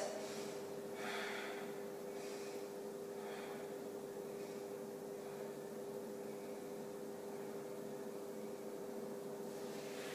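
Deep, slow breathing during a yoga pose, with several soft rhythmic inhale and exhale swells over a steady background hum, no talking.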